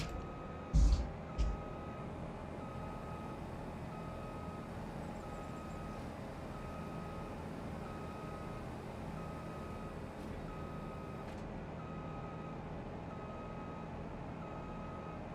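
A truck's reversing alarm beeps in Farming Simulator 25, a steady run of evenly spaced beeps over a low engine drone, with a brief knock near the start; clear and sustained.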